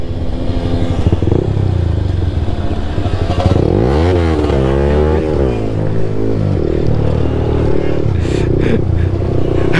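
A Yamaha RX135 two-stroke motorcycle with a piston fault, ridden on a short track, sounds loud and close throughout: a steady engine drone with a rising and falling rev in the middle, plus rattle and clatter.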